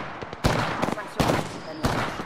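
Gunfire in Apex Legends, three loud, sharp shots spaced roughly evenly across about two seconds, with fainter crackles and game noise between them.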